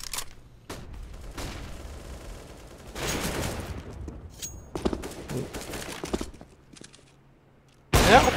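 Gunfire in a CS:GO pro match: several sharp bursts and rapid volleys of shots spread across the stretch, with quieter gaps between them and a loud final burst at the end.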